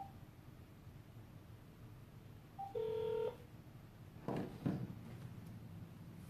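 Telephone dialing tones sound as a call is placed to a co-host: a steady tone, then a short burst of keypad beeps over low hiss, followed by faint handling rustle.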